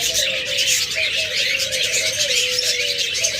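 A lutino pair of pet birds with red eyes, kept among budgerigars, cockatiels and lovebirds, gives a continuous bright chatter of chirps over a thin whistling line, dense and close.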